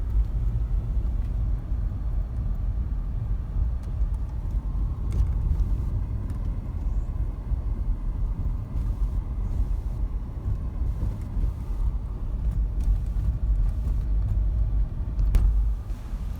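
A car driving along Hospital Drive, a residential road past brick houses and a drugstore, heard as a steady low interior rumble of engine and tyres, fairly quiet and continuous with no talking.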